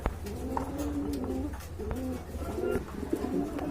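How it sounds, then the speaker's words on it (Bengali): A pair of show-quality pigeons at a sale, cooing in repeated soft rolling phrases close by, several coos following one another with faint background rustle. "এই যে দেখেন খুবই সুন্দর কোয়ালিটি ফুল এক জোড়া কবুতর"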